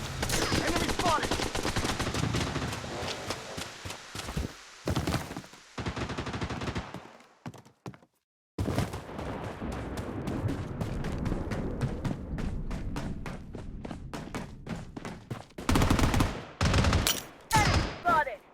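Gunfire rattles through a Blood Strike match in dense, loud bursts of rapid shots with short pauses and brief silences between volleys, and game voice alerts sound over the shooting.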